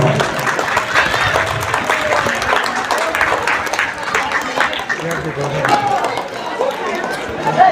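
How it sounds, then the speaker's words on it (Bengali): School students at an inauguration ceremony applaud, with crowd clapping and chatter filling the space for several seconds as voices mix in under the noise. "ছেলেরা তোমরা করতালি দাও"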